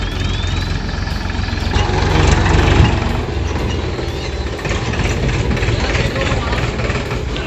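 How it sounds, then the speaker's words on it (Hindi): A tractor engine runs steadily at close range, its low rumble and chugging holding even throughout with a slight swell midway and no clear speech over it. "तो हमारा ट्रैक्टर अभी पहुंच गए।"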